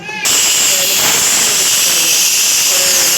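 A pressure cooker on the stove, cooking tomato rice, lets off a loud, steady hiss of escaping steam with a high whistle tone, starting abruptly and continuing unbroken.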